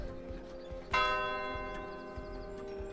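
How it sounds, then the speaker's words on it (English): A single bright bell rings out once in a tabletop roleplaying game scene, its strike followed by a long, slowly fading shimmer over soft ticking background sounds. "You hear the bell."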